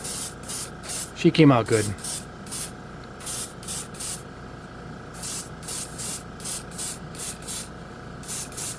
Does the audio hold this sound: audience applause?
no